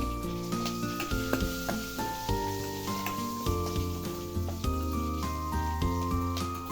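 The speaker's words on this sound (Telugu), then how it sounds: "ఇది కొంచెం ఫ్రై అయిపోతే సరిపోతుంది" Green chilies, curry leaves, dry chilies and cashews crackle and sizzle in hot oil in a pan, a steady hiss beneath louder instrumental music that plays throughout.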